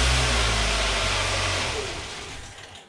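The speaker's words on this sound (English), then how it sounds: "So let's go ahead and start the car now" A 2011-2015 Kia Optima with the 2.4L GDI engine starts and runs briefly with fuel cut off, a loud close engine roar that fades steadily as it dies, no talking.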